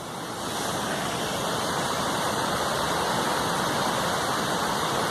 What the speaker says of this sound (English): That's one hell of a waterfall